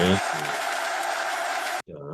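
Recorded crowd cheering and applause plays as a sustained, dense wash of sound that cuts off abruptly, followed by someone speaking.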